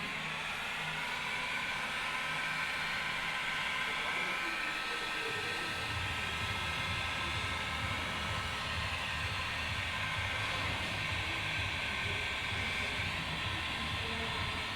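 A heat gun blows a steady, loud hiss while heating TeckWrap Hunter Green vinyl wrap on the lower quarter panel of a Lexus RC F, running continuously with a low rumble beneath.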